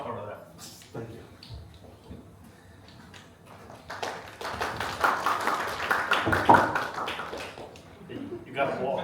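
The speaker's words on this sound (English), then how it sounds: "You got applause." An audience at a cybersecurity talk claps after a speaker is introduced, a scattered burst of hands swelling in the middle while people keep talking over it.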